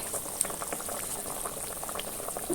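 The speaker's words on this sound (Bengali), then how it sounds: "আমার ঝোলটা ফুটে গেছে" Curry gravy bubbling steadily in a pan while cooking doi katla, a dense, continuous simmer with small pops and burbles, close and moderately loud throughout, no voices.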